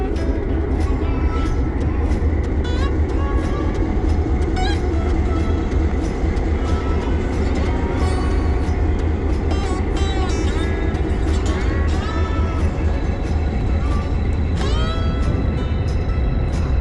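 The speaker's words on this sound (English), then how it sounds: "There's a Norfolk Southern engine there in the middle, a helper engine." A Norfolk Southern helper locomotive rumbles steadily at a rail yard at a transportation museum, a continuous loud low engine drone with rail noise, squeals and clanks, and faint voices now and then.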